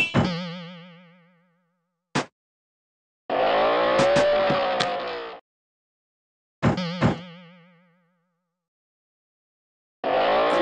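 Cartoon car driving in a Peppa Pig theme park video game, short bursts of bouncy synthetic engine and boing-like tones separated by silent gaps, bright and close with no voices.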